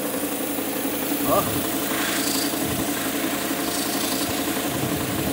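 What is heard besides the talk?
exhaust air leak on idling Fiat Ducato van engine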